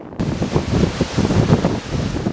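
Ocean surf rolling onto a shore, with wind buffeting the microphone; a steady, close wash of breaking waves with no talking.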